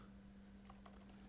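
Keys on a Lenovo B590 laptop keyboard are typed in a few quick, soft clicks, very quiet against a faint steady hum, with no talking.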